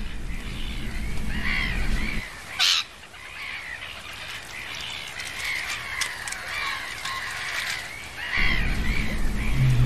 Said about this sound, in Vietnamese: Với chim mòng biển đầu đen,